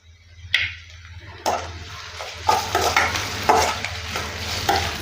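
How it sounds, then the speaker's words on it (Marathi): Garlic cloves tossed into hot oil with onion give a loud sizzle, then spoon strokes scrape and clack against the pan at a steady pace over continuous frying. "पाच सहा लसणीच्या पाकळ्या पण टाकून घेऊया"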